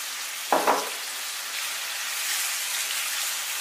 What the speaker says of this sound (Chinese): 继续给它翻炒均匀。